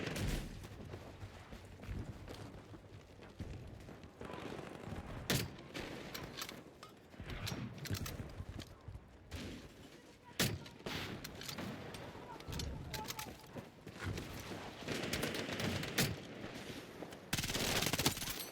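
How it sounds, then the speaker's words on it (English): Battlefield match with rapid bursts of gunfire and heavy thuds of mortar shells landing, loud and continuous, with sporadic louder cracks and a player talking faintly underneath. "Get that mortar out of here."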